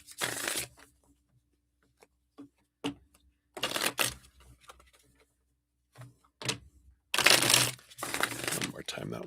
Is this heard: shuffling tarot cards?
yes